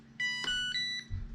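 A diabetes monitoring device gives off several sharp electronic alarm beeps in a short irregular burst inside an OTR truck cab, loud and close, with a low engine hum underneath.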